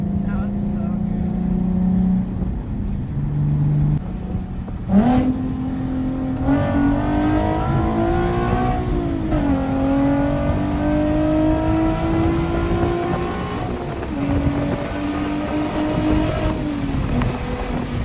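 Nissan 370Z Nismo fitted with a Tomei exhaust and Z1 Y-pipe accelerating hard, its engine note climbing through several gear pulls. The drone is loud, even and continuous, heard from the cabin.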